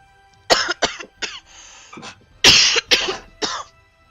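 Several harsh coughs and throat-clearing bursts from one person at a tabletop Dungeons & Dragons session, a rapid cluster, a pause, then more coughs, close and loud.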